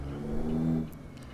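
Cummins Signature 600 truck engine in American Truck Simulator, accelerating up an on-ramp: a low, steady diesel drone that swells and holds for most of a second, then drops off abruptly to quieter rumble.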